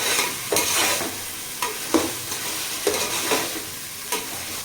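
Masala being stirred and fried in oil for a homemade biryani, with a steady sizzle broken by several distinct scraping strokes of a spoon across the pan, close up and alone.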